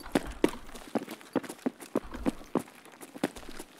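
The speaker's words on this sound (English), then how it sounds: "Watch it, I'm hearing footsteps right." Footsteps in the video game Escape From Tarkov, a steady series of sharp, evenly spaced steps on a hard surface, about ten in a row, moderately close and heard without talk over them.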